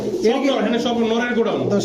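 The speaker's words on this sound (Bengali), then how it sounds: "এখানে যা আছে সব নর কবুতর হ্যাঁ" Male pigeons at a pigeon market give low, rolling coos close by, mixed with nearby voices.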